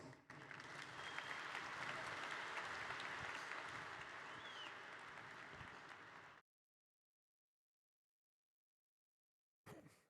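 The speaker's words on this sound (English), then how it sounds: "So round of applause, please" Audience at a technology evening event applauding as a speaker takes the stage, broad sustained clapping for about six seconds that fades slightly before cutting to silence, then a brief return of sound at the end.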